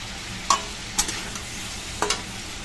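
Beaten egg mixture fries in a pan while a spatula stirs it, a soft continuous sizzle with a few distinct scraping knocks against the pan, no voices.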